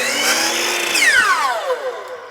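A power saw bites into wood molding to cut kerf slots, its loud whining tone dropping in pitch as the blade loads up in the cut over a couple of seconds.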